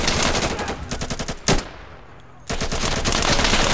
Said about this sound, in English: Unload as many rounds as possible on the enemy.